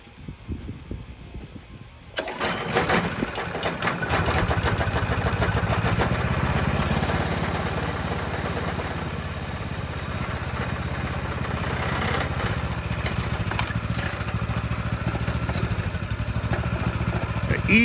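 A cold vintage go-kart engine fires up after a quiet moment, then runs in a steady, buzzy, close idle that lasts to the end, with brief talking before it starts.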